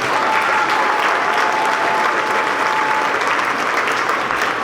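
An audience at an education awards ceremony applauds middle school students with dense, sustained clapping that fills the whole stretch at an even, loud level.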